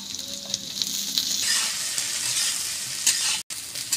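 Eggplant pieces fry in hot oil with onions and cumin, a continuous loud sizzle that rises as the pan is stirred, with brief scraping and a short cutoff near the end.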